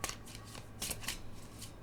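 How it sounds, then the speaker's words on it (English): A deck of tarot cards is shuffled close by, several quick riffling bursts of cards flicking against each other, fairly soft and with no talking. "I just keep shuffling."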